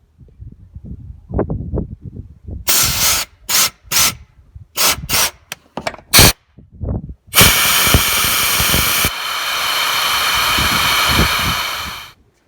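Compressed air from a shop air compressor blows through a Nissan Frontier/Pathfinder automatic transmission to push out old fluid: several short loud hissing bursts, then a long steady blast of rushing air lasting about five seconds.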